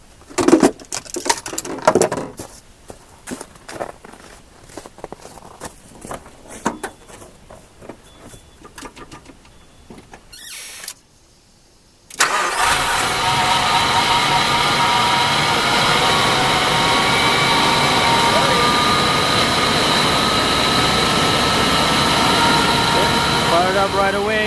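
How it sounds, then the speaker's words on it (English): A Nissan Xterra engine with a crank-no-start ignition fault, fixed during troubleshooting. After brief handling noises and a short pause, the engine catches and settles into a steady, loud running drone that continues to the end. "I'm going to crank the engine and see"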